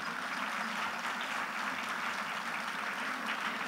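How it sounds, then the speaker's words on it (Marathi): An audience at a school gathering applauds the organisers with sustained clapping of many hands, steady and even but faint and distant throughout. "आपण एकदा जोरदार टाळ्या वाजवून त्यांचं कौतुक करूया."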